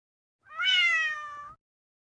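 A single clear cat meow, drawn out for about a second, close and alone with silence around it.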